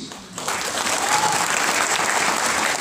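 Audience clapping at a leadership training event in Faridabad, a dense, steady patter of many hands that rises suddenly after a brief quiet moment and continues loudly without voices.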